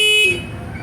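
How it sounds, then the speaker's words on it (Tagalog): The electric horn of a Boss Electraze e-bike gives one loud, high-pitched beep that stops abruptly, heard up close and followed by a quiet background. "malakas na po yung kanyang busina"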